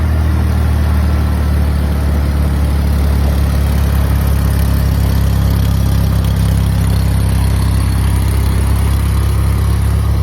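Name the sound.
welder engine idling after warming up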